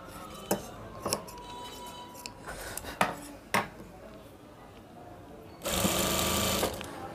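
A sewing machine stitches the seam of a kalidar panjabi, a steady whirring burst of about a second near the end, preceded by scattered clinks and handling knocks as the fabric is folded.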